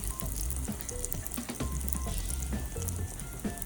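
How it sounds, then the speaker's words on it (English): Chicken samosas fry in hot oil over a lowered flame, giving a steady, close, continuous sizzle and bubbling with no talking. "So as the oil is ready, reduce the flames all the way and let the samosa cook in it."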